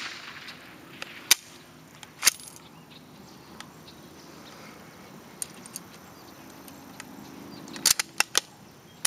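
Sharp gunshot cracks from a woodchuck hunt ring out in open air, several brief isolated reports spread across the stretch with quiet field ambience between them.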